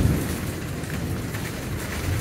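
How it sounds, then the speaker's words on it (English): Hail pours down during a storm with gusts to 70 miles an hour, making a dense, steady patter close by with no gaps and no voices. "That's hail dropping everywhere."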